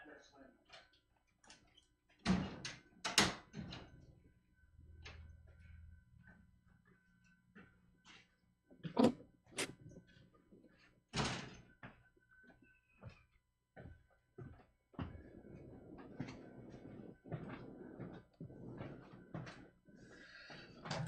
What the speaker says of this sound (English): so they're working on one of the other doors